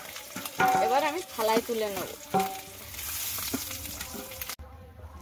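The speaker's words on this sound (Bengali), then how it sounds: "ডিমটা ভাজা হয়ে গেছে" An egg fries in a pan, a steady close sizzle under a voice talking at the start, with a soft stirring scrape, before the sound cuts off near the end.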